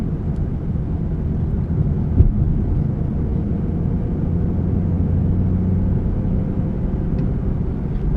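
A Shelby GT500 on drag radial tires cruises along in sport mode, its engine giving a steady low rumble with road and tire noise throughout, fairly loud and even with one brief thump.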